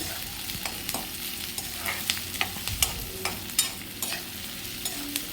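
Onions frying in oil in a pan for paneer lababdar, a close, steady crackling sizzle with frequent spatula scrapes and small pops, moderately loud and uninterrupted by voices.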